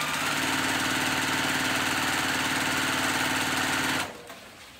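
A sewing machine stitches a cow print ribbon tutu in a steady, loud mechanical whir with rapid rhythmic needle pulses, running alone for about four seconds before stopping abruptly into quiet room noise.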